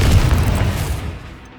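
A Confringo spell explosion in the Hogwarts Legacy video game: a heavy, booming blast that hits at once and rolls off into a fading rumble over about a second and a half.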